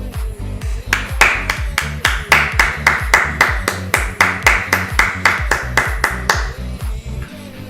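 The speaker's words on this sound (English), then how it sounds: "we're gonna clap. We're gonna fucking clap." Hands clapping in a fast, even run of about two dozen sharp claps close by, over background music, then stopping near the end.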